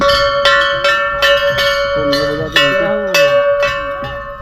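A metal temple bell is struck repeatedly in a steady rhythm, each clang ringing out with a long sustained tone that overlaps the next strike.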